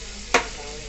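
Chicken is stirred into sizzling masala for chicken gravy, a constant close frying hiss with one sharp scrape of the spoon, no talk.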